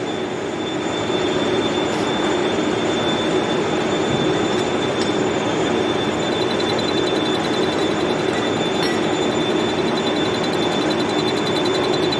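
A milling cutter grinds a part turned on a lathe, a loud, continuous dense roar with a steady high-pitched whine, unbroken from start to finish and close by, with no talk.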